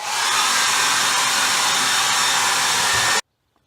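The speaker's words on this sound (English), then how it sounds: "or you can choose to blow dry it." A hair dryer blasts air over a laptop being dried, a loud steady whirring roar for about three seconds before it cuts off abruptly into silence.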